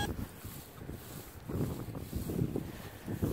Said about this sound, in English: I apologize if you're getting some wind.